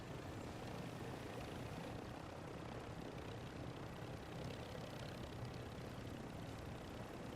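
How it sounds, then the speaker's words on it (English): A helicopter in the game Call of Duty DMZ, its engine and rotor roar filling the scene as a constant, dense, unchanging drone with no other sounds over it. "So again, we're going to park our helicopter onto this roof if we can."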